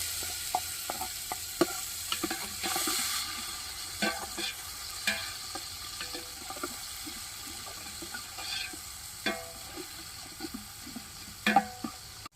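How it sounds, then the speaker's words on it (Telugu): Tomatoes go into a pan of fried onions for Rayalaseema natu kodi pulusu, with irregular wet clicks, spatters and spoon scrapes over a low sizzle, and no voices. "ఆనియన్ బాగా దోరగా వేగిన తర్వాత ఇప్పుడు మనం టమోటా వేస్తున్నాను ఫ్రెండ్స్."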